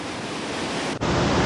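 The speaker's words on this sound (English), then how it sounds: "getting great vistas of these amazing waterfalls at Iguassu" Iguassu Falls roars as a dense, steady wash of falling water, loud and unbroken apart from one momentary dip.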